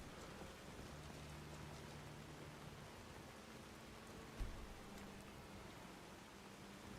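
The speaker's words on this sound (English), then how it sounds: "I do love the rain, but it's a bit irritating when it keeps dripping into my eyes." Quiet, steady rainfall in modded Skyrim, a soft continuous hiss of drops on surfaces with a low hum underneath and a single faint thud near the end, no voices.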